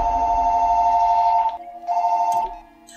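A telephone rings in the horror film Smile: a loud, steady electronic tone sounds alone for about a second and a half, pauses, then rings again briefly before cutting off.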